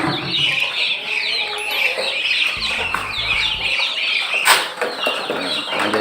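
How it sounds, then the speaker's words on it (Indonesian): Chickens cluck on a farm where muscovy ducks and chicks are also kept, with a busy layer of high peeping and a burst of wing flapping, fairly close and continuous throughout. "Ini ada ayam, nah itu ada mentok"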